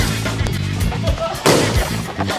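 Balloons popping in a team party game, a dense run of sharp bangs over shouting and chatter from a crowd of players.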